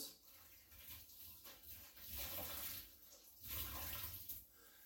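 Tap water running into a kitchen sink for a rinse, a soft steady splash that swells and eases in waves, faint and close, with no voices.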